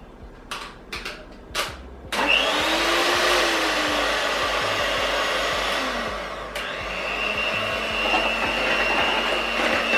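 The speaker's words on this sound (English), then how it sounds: "So I'm just grabbing a hand mixer and on the lowest speed." Electric hand mixer on its lowest speed mixing banana bread batter, a steady loud whirring hum that starts after a few short clicks and runs on alone.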